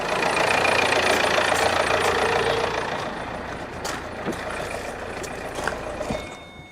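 A diesel vehicle engine idles steadily right after a jump start with a JFEGWO 4000A booster, a loud, even rumble that eases slightly partway through before a few faint clicks near the end.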